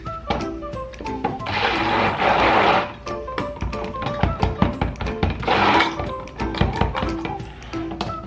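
A stick blender gives two short whirring bursts while mixing mica into cold process soap, between repeated taps and knocks of containers and tools on a work surface.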